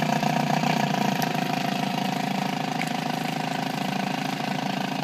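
An outboard motor on a 1991 Lund Angler 1600 SC boat idles steadily nearby, a continuous even mechanical drone with a faint rhythmic knock and no voices.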